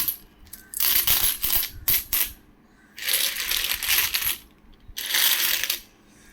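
Vaishno Devi commemorative coins clatter and jingle as they are handled and shuffled, in several bursts of metallic rattling separated by brief pauses, fairly close.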